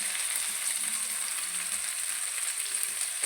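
Prawns frying in butter in a pan, giving a continuous, even hiss and sizzle heard close up, with no voices.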